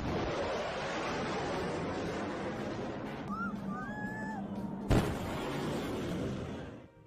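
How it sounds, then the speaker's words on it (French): A steady roar of a supersonic aircraft builds, then a single sharp sonic boom cracks out, sudden and loud, before the rumble continues and fades. "c'est ce que l'on appelle le bang sonique"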